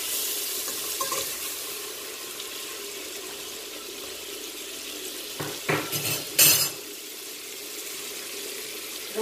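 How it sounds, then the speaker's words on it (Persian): Butter melting in a cooking pot for kachi, a Persian sweet, with a steady soft sizzle under scattered metallic clinks and scrapes of stirring that bunch up near the end. "ابتدا کره رو میریزم داخل قابلمه."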